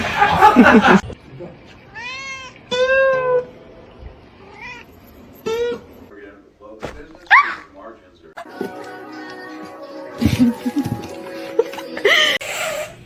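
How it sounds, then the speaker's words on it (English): A house cat meows several times in short tonal calls, with a dog-like bark mixed in and a person talking between the sounds. "That looks like a house cat."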